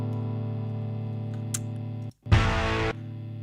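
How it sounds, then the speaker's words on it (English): Electric guitar run through effects with heavy reverb, a sustained washed-out chord droning before a brief cutout and a louder distorted strum that rings and fades. "there's too much reverb"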